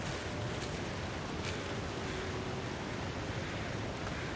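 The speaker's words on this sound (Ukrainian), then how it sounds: "У нас тут водоспад." Waterfall in the video game The Long Dark, a steady, dense rushing roar of falling water that fills the whole stretch evenly with no pauses and no voices.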